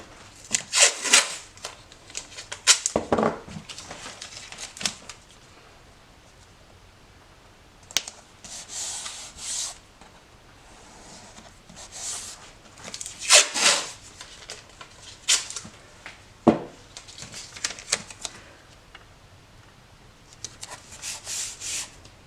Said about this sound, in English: So just lightly along the paper and then get your nail and go down the edge of the board.